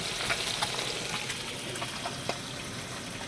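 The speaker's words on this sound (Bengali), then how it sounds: "এটা পাঙাশ মাছ ভাজা করছি, এর ঝোল হবে।" Pangas fish pieces fry in hot oil, giving a soft, steady sizzle with scattered crackles and pops. Faint and continuous, with no voices.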